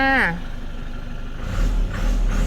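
A brief tonal sweep gives way to the diesel engine of a 2019 Isuzu D-Max pickup catching and settling into a deep, throbbing idle rumble.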